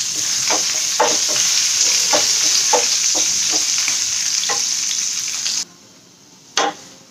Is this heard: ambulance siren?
no